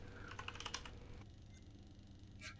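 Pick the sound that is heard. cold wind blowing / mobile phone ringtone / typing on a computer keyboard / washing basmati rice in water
typing on a computer keyboard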